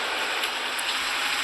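Rain falls steadily, a dense, even hiss of drops with no breaks or other sounds across a brief moment.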